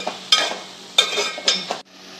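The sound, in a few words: stirring cooked amaranth leaves in a pan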